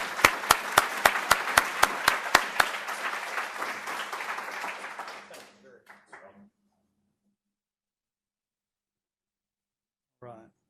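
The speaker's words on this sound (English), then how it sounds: "Please join me in a round of applause for Perry." An audience at a veterinary symposium applauds, rhythmic loud claps opening into a dense wave of clapping that fades out after about six seconds, followed by silence and a brief voice near the end.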